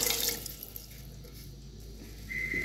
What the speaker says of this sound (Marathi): त्याच्यात आपण अगदी थोडासा पाणी टाकायचंय